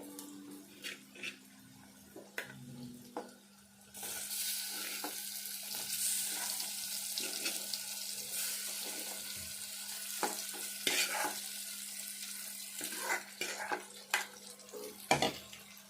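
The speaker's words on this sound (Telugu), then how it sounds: "ఈ ముక్కలన్నీ కూడా మంచిగా పీసులన్నీ అంతా మంచిగా ఫ్రై కావాలి." Masala-coated chicken pieces go into a hot pan on a low stove. Quiet clatter and a low hum come first, then a loud, dense frying sizzle holds steady, broken by scattered scrapes and knocks of stirring.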